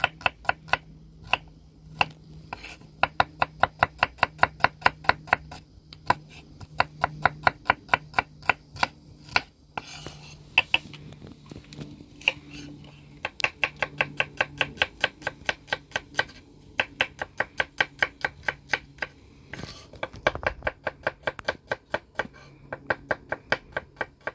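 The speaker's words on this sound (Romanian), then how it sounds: "Și acum ne apucăm să tăiem ceapa." A knife chops onion on a cutting board in rapid, even strokes, with crisp near taps in long bursts broken by short pauses.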